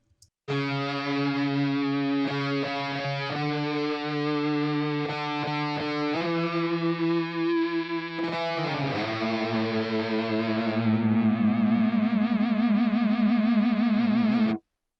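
Heavily distorted electric guitar through a Fractal Axe-Fx II XL modeler plays chugging chords and sustained notes, thick with effects, then shifts into a wavering, chorus-like shimmer toward the end.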